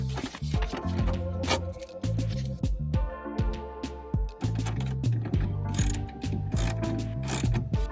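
Socket wrench ratchet tightening a clamp on a Ford F-350 dually truck bed: close, crisp ratcheting clicks in quick irregular bursts, with sharp metallic ticks and brief pauses between strokes.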